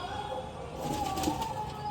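Pigeons at a pigeon house on a stormy, rainy day, with a faint fluttering of wings and soft bird sounds over a steady background hiss.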